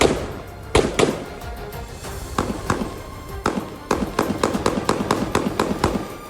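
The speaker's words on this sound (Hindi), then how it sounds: "ये गोलीबारी लंबी चली और पूरा इलाका गोलियों की तड़तड़ाहट से गूंज उठा।" Gunfire rattles through Jenin refugee camp in the West Bank, with sharp single shots followed by a rapid burst of cracks in the final seconds, loud and echoing, with no talk.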